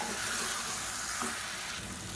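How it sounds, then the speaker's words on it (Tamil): Steady sizzling and frying from a pan as paste is sautéed for chicken kuruma, with faint scraping as the food is stirred; continuous and fairly close, no voices. "சேர்த்துட்டு நல்லா வதக்கி விட்டுக்கலாம்."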